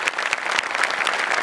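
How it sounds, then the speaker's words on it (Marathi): Brisk, loud applause from a comedy show audience, with many hands clapping in a thick, continuous burst. "जोरदार टाळ्या."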